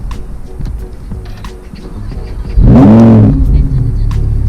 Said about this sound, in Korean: 시동 한번 살짝 걸어봐도 괜찮은데?